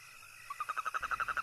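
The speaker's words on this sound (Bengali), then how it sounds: "হঠাৎ হঠাৎ ব্যাঙ ডাকছে।" A frog croaks in a rapid, rhythmic series of short pulses at night on a village road, clear and fairly near, against a quiet background.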